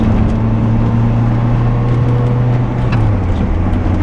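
Steady, close engine note from a 2000 Toyota MR2 Spyder under throttle, holding an even pitch before dipping slightly near the end.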